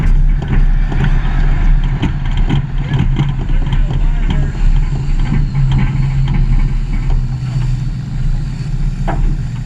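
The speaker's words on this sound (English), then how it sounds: "The first actual burnout that done the full thing and pop tires too." Car tire burnout at Bristol racetrack, a loud sustained engine roar with revving and screeching tires held on for several seconds, close and dense, ending as the tires blow out.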